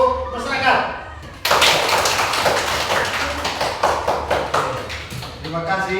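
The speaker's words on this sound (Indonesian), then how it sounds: "Oke, tepuk tangan dulu." A school class in a Catholic religious education lesson claps hands together, a burst of rhythmic group clapping that starts abruptly after a spoken voice and continues loud and close, with speech returning at the end.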